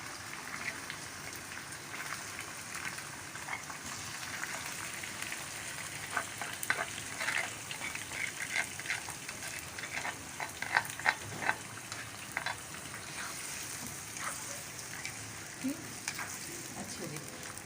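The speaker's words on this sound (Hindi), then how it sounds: "अब इसमें हम ये देखिए गला हुआ जो गोश्त है" Tender cooked beef frying with garlic and ginger for a spicy qorma, a continuous close hissing sizzle with occasional crackles and stirring scrapes, no voices.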